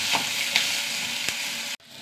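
Small onions and curry leaves fry in hot oil, a steady close sizzle with a few light stirring taps before it cuts off abruptly; no voices.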